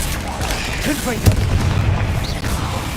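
A spell blast from the Confringo curse in Hogwarts Legacy, one sharp booming burst near the middle amid ongoing game noise and a speaking voice.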